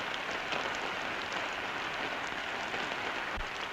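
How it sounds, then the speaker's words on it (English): Steady rain falls evenly throughout, a dense hiss of drops pattering on a surface with no voices. "Well, it's still raining."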